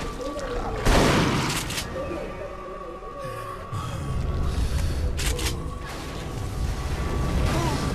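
Gunfire in the video game Duke Nukem Forever: a sharp loud blast near the start, then bursts of shots, booms and mechanical clatter over a rumbling game background, with a player talking at times.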